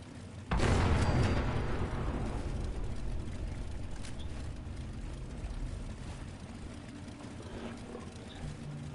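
A grenade explodes in Fallout 76 with a sudden loud boom, then a long rumbling decay that fades slowly over several seconds.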